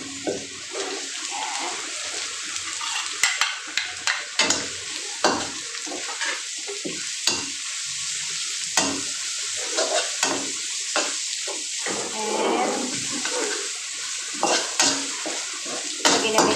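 Onions go into a pan of browning pork for binagoongan, giving a continuous sizzle and sauté hiss broken by repeated sharp scrapes and clinks of a utensil against the pan.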